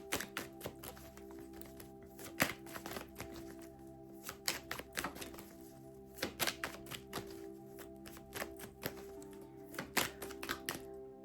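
Tarot cards being shuffled give rapid bursts of crisp tapping and riffling clicks in uneven clusters, close and fairly quiet.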